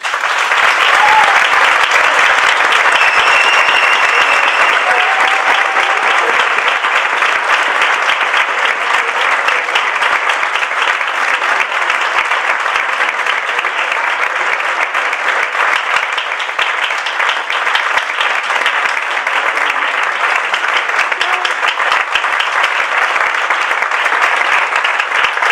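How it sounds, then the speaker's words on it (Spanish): Sustained, even applause from an audience at a performing arts, social inclusion and mental health conference after a talk, a dense unbroken clapping that holds steady at full volume for the whole stretch. "el aplauso a Miquel lo dice todo"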